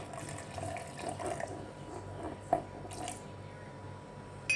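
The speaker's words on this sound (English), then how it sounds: "I'm going to add some water to it" A soft trickle of water pouring into an oats and mango smoothie, quiet and steady, with a small splash or clink partway through.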